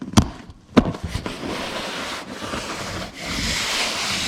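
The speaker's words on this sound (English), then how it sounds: "Sand this part of the seat down pretty good." A vinyl boat seat being sanded: two sharp knocks open, then a steady, close abrasive rasp continues without any talking.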